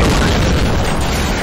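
A grenade explosion in the Resident Evil 3 video game: a loud, dense boom that fills the whole short moment without letup, with no clear voice over it.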